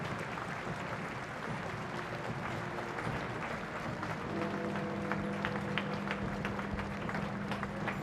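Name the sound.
crowd applause from pavements at royal cortege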